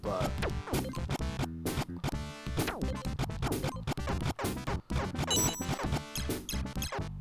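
Wonder Boy music played through the Sega Genesis sound chip: dense, busy chiptune melody with bright synth tones and steady percussive hits, loud and continuous with no talking.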